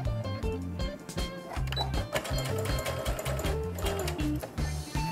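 A sewing machine runs straight stitches on a pink embroidered tutu, its rapid mechanical chatter coming in repeated close bursts with brief stops between runs.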